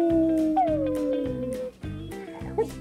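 A pet dog howls in long, sliding, wavering tones, close and loud, with several drawn-out howls in succession, done indoors at home during a workout with the owner.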